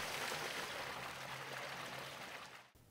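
A small cascade drops within a salmon stream, giving a steady, soft rushing of water with no other sounds, cutting off abruptly at the end.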